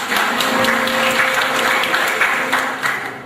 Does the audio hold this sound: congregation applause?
yes